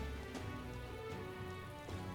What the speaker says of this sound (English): Shit, it's raining.